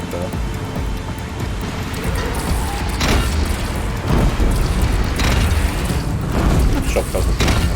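Heavy booming blasts from a cannon in the video game Horizon Zero Dawn, several loud low thuds at irregular intervals over dense rumbling game noise and rain-like hiss.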